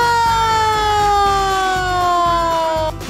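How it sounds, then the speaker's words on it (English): Police car siren wailing loudly and steadily with a slowly descending tone, heard alone without talk. "Ooh, what's that? It's a police car."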